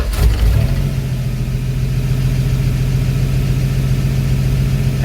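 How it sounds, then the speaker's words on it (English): A 1974 Dodge D100 pickup's engine settles into a steady, close, rumbling idle after a brief starting burst at the very beginning. "it says it's idling at about 800 RPM"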